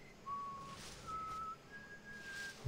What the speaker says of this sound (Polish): bo słyszymy jakieś gwizdy, świsty